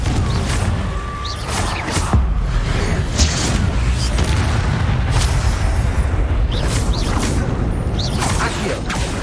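Confringo blasting spell from Hogwarts Legacy, repeated booming bursts and pops one after another amid rumbling combat noise, with voices shouting spell names.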